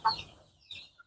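Native chickens on a poultry farm give a couple of brief, soft clucks separated by a pause, fairly faint against a quiet background.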